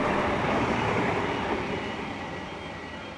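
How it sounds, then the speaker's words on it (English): A NSW TrainLink Explorer diesel train passes by on the track, a loud, broad rolling rumble with rail noise that gradually fades as it moves away. "a New South Wales Trainlink Explorer set passes through on the same track as the Land Cruiser"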